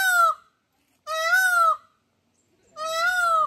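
Peacocks at a zoo, both white and common, give three loud, drawn-out wailing calls spaced about a second apart, clear and close with silence between them.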